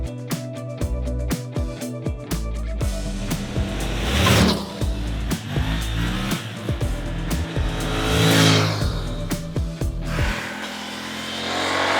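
A Suzuki V-Strom 800 motorcycle accelerates on Austrian Alpine roads, its engine rising and falling through repeated gear changes, loud and close throughout, with no talking.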